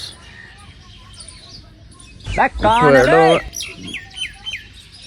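Sparrows, mynas and parrots chirp and twitter in the background on a morning, with a rising whistle-like call repeating near the end; a person speaks briefly in the middle.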